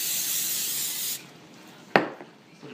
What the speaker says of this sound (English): I spray with some Pam